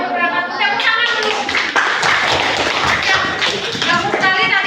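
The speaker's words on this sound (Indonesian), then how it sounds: "Tepuk tangan dulu." A classroom of students applauds together in a dense, steady burst of clapping that fills the room, loud and continuous, with voices mixed in.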